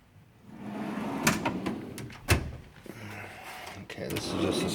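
Metal drawers of a Matco tool box sliding open and shut, with sharp clacks and rolling slides at close range, repeated several times beneath someone talking.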